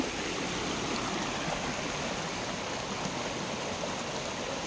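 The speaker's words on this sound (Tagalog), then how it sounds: "Ito yung malinis na river na dumadaan doon sa property." A clean river runs through a rural property, its steady broadband rush of flowing water continuous and fairly close, with no voices.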